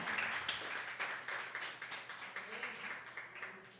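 A church congregation claps along in a fairly rhythmic pattern, the claps moderately loud and gradually softening, with faint voices in the background.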